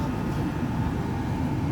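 The Jayabaya economy train pulling out of Jatinegara station in Jakarta, a steady low rumble of rolling carriages heard from inside, continuous and fairly loud with no voices.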